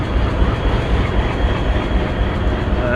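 An ALCO 2000-horsepower diesel locomotive pulls the Hazara Express through Pakistan. It gives a steady, loud, close rumble with a constant rolling clatter of wheels on the rails.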